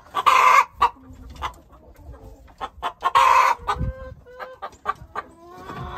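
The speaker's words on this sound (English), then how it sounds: "Look at that rooster." A rooster clucks repeatedly with a few short, loud crowing bursts, close by, amid other chicken clucks in a farmyard.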